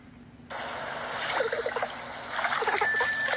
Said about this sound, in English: Stop splashing!